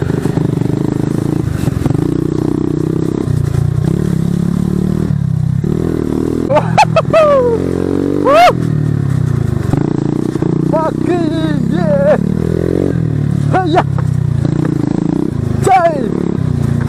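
A motorcycle rides a steep cliffside road, its engine running steadily throughout with revving bursts and clattering, while someone talks over it and whistles now and then.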